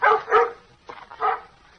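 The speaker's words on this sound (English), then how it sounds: "That's Bullet's bark, and he's mighty excited" A dog barks excitedly on an old radio show, giving four quick, sharp, close barks in two pairs with short gaps between them.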